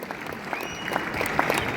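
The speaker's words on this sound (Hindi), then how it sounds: "एक बार जोरदार तालियां इन दोनों साथियों के लिए।" A brief burst of hall applause for two colleagues at a business leadership event, with steady crowd clapping at moderate loudness.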